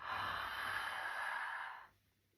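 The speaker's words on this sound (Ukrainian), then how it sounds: "Ми робимо вдих через рот зі звуком буква А, так, звук А." A mouth inhale voiced on an open 'A' vowel during a kundalini yoga tension-release breathing exercise, one long steady breathy draw lasting nearly two seconds, close and fairly quiet, then fading out.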